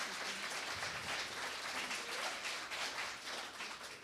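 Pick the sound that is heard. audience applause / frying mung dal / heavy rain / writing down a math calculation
audience applause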